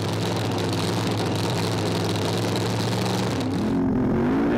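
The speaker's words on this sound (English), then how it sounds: "These things are brutal, organic race cars." Organic-fuel drag race cars at a strip roar loud and sustained, a heavy engine note that climbs in pitch near the end as the car revs and accelerates, with no talk over it.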